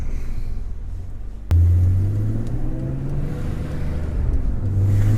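A 2003 BMW E46 M3 CSL engine drones low and steady, then a sudden jump in load as a gear change goes through and the engine settles into a deeper, louder hum, close and continuous with no voices.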